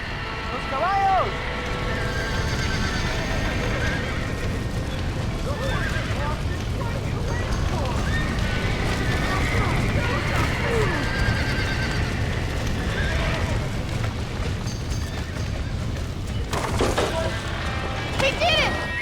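Horses whinny and neigh in a burning barn in Red Dead Redemption, with loud repeated cries over hoof clatter and a dense roar of fire and commotion, while voices shout throughout.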